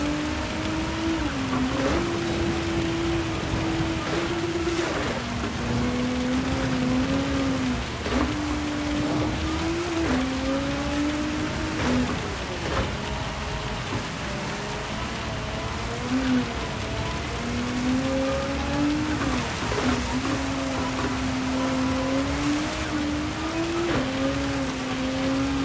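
A race car in Gran Turismo 7 runs a lap, its engine droning steadily throughout as the pitch shifts up and down through gear changes and corners, with a constant hiss beneath.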